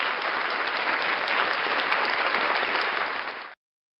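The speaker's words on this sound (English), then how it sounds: "Ladies and gentlemen, round of applause for Frauditor News Network." A steady round of applause fills the air, dense and sustained at a uniform level, then cuts off abruptly after about three and a half seconds, with no voices over it.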